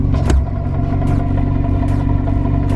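A drift car sits in second gear with its engine revving, giving a loud, steady, rough drone close by, with a brief heavier thump near the start.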